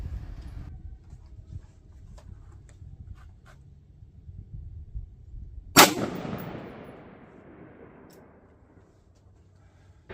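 A single sharp rifle shot fired at a target through an LPVO scope rings out loud and close, then a long reverberant tail fades over several seconds, after quieter rustling and handling noise.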